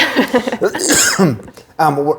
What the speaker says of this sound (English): I've got a little bit of a cough.